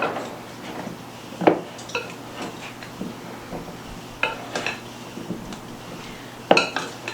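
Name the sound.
stirring seasoned potatoes in a dish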